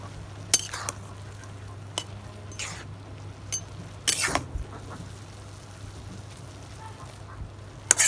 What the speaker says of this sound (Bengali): এখন আমি ঢাকনি গুছাইয়া নাড়া দিব